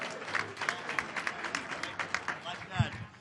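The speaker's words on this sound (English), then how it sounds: "A round of applause to Leonard Ellerbe" A crowd claps in a quick, scattered patter at a boxing event's arrivals show, steady and moderately distant, with voices murmuring underneath and a brief low thump near the end.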